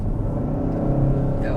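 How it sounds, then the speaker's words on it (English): A 2022 Kia K5 GT in sport mode revs its engine, with augmented engine sound played through the Bose stereo, a loud, steady low rumble heard from inside the cabin, with a voice briefly over it near the end. "this does have augmented engine noises, so most of what you heard was actually coming through the Bose stereo"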